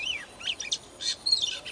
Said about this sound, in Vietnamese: Đây loa gọi chim nhá.